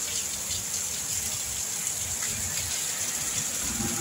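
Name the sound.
heavy rain falling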